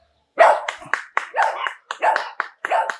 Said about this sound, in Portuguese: batidas de palmas